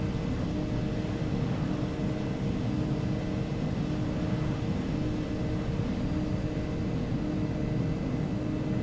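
Twin Otter turboprop engine in a flight simulator game, running up with a steady, loud broadband drone and low hum, holding constant throughout with no talk over it.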